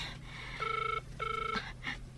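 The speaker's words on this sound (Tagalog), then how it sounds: "Aday ta, agriring ti cellphone na." A cellphone rings indoors in two short, evenly spaced electronic bursts of a bright, steady tone over a low background hum.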